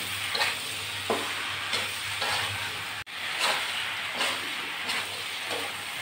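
Bottle gourd, potato, onion and garlic sautéing in a pan: a steady, loud close sizzle with stirring scrapes at regular intervals, briefly cut off midway.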